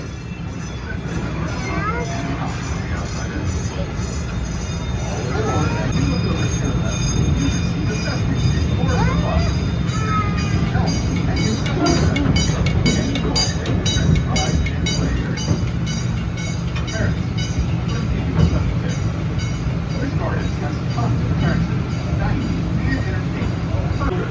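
An amusement park train ride at Busch Gardens rolls steadily with a low rumble and faint rhythmic clatter of wheels, while people chat and exclaim nearby throughout.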